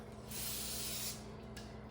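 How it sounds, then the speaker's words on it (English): Cooking spray hissing from a can onto a pan for about a second, a close, steady spray with a brief extra spurt at the end and no talking. "So I'm just going to spray my pan,"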